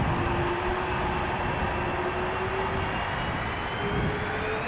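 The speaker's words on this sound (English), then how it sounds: "A330 already spooling up." Airbus A330 jet engines spooling up at Amsterdam Schiphol in showery weather. A steady, moderately loud engine roar with a thin, slowly rising whine runs throughout, with no talk.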